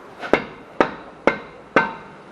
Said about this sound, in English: And you're going to want to push this axle through.